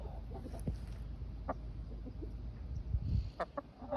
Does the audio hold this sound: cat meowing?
no